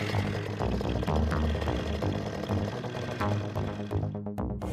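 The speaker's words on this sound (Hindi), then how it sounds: "आगे देखो और फटाफट गाड़ी चलाओ, जल्दी चलाओ।" An auto rickshaw engine chugs close by as the vehicle is driven, a busy, rattling mid-pitched drone that stays steady before thinning out near the end.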